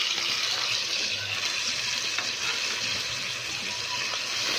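Red chili and other spices sizzle after being added to a hot pan while cooking sabut daal mash, giving a steady, close, bright frying hiss that fills the whole stretch.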